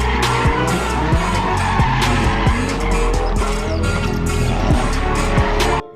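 Toy race car skidding sound effect: a steady loud engine roar runs throughout, broken by repeated sharp tire screeches at roughly even intervals, ending abruptly near the close.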